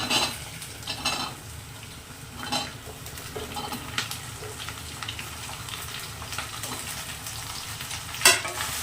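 Okra tossed into onions already frying in a pan gives a steady sizzle, broken by repeated scraping stirs and a sharp utensil clink near the end, with no talking.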